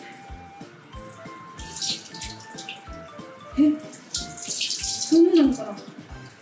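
Tap water runs into a kitchen sink while burdock root is washed, splashing and shifting in intensity, with a person talking over the flow.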